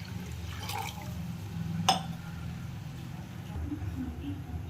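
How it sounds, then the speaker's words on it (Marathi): A glass of water is poured into a pot of Maharashtrian buttermilk kadhi, a faint brief splash over a quiet background. "मी यात 1 ग्लासभर पाणी टाकते"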